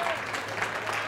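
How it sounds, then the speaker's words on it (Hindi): A church congregation claps steadily for the Lord at a ministry service; dense, even applause fills the whole short moment without a break. "क्यों ना प्रभु के लिए ताली बजाए।"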